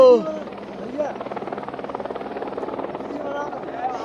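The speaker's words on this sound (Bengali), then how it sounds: "ফুল বর্ষণ করছে হেলিকপ্টারের মাধ্যমে" Helicopter showering flowers over the Kedarnath temple, a steady thudding rotor drone heard from some distance, continuous and fairly even, with a brief voice at the start.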